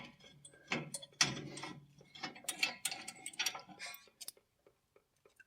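A ratchet works on the brake caliper bolts of a Porsche 944 in a series of close, uneven clicking and rattling bursts. The sound dies away into a few faint ticks.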